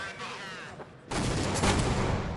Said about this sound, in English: that HE did an awful lot of damage to Zonic